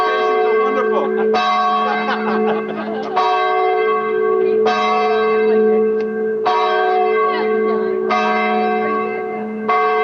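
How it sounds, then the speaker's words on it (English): A town bell at a Veterans Day celebration rings in repeated strikes about every one and a half to two seconds, each tone sustaining and overlapping the next, loud and near. "You want the bell again when you're over here?"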